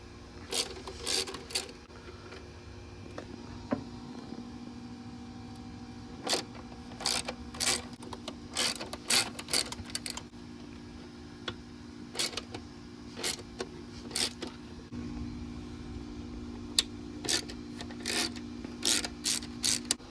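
A wrench loosens screws on a Ford Explorer's engine during a spark plug change, giving quiet, scattered ratcheting clicks and short metallic creaks over a faint background hum.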